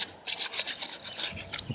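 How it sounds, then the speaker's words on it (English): Brisk rhythmic rasping strokes of sandpaper rubbing back and forth on pocket bike parts, close up, about two per second, with no talking. "I'm just going to keep sanding."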